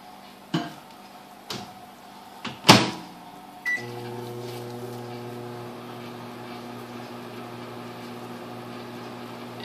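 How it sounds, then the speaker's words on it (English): A kitchen microwave oven is set running to melt soap base, with a few sharp clicks and knocks of the door and keypad before a steady low hum and whir settles in, close and alone. "So I'm going to pop that into the microwave for just a short while."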